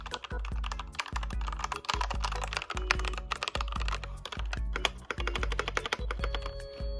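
Typing on a TMKB 60% mechanical keyboard fitted with red switches, a steady close-up rattle of keystrokes with quick rhythmic clusters running throughout, no voices.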